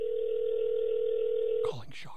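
A steady telephone dial tone plays over speakerphone, loud and unbroken for nearly two seconds, then cuts off as a voice begins speaking.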